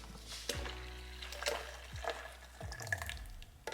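Fresh apple juice from a Nama J2 juicer poured into a container, a quiet trickle with a few distinct drips and gurgles.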